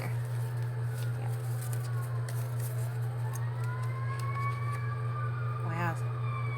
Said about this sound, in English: those sirens are loud today